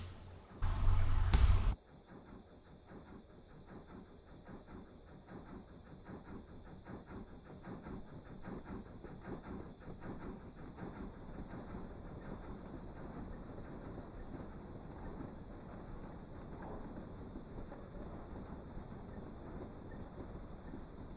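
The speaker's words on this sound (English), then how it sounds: "It's an Adams radial tank engine" An Adams radial tank engine pulling cattle trucks, likely a model railway, runs steadily with a faint, continuous rolling rumble and light clatter after a brief loud bump at the start.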